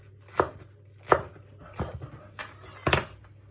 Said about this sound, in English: I think I'll probably chop most of it up.